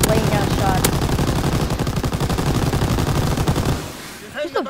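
Loud, rapid machine gun fire in the World War II shooter Call of Duty: WWII, a sustained rattling burst of closely spaced shots that cuts off near the end, leaving brief quieter game noise.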